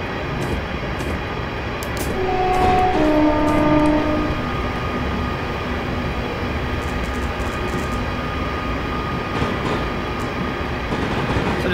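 A London Midland passenger train in the Train Simulator 2018 game runs steadily on a Stafford to London Euston service, with a continuous rolling rumble, a brief multi-tone horn early on, and faint rhythmic rail clicks.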